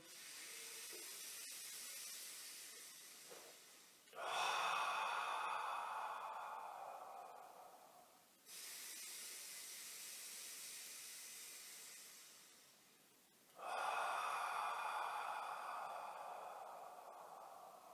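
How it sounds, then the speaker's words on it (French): Slow deep breaths during a guided pranayama session, long airy inhales and exhales alternating in a steady rhythm, close and soft, with no talking over them. "Encore 5 respirations profondes"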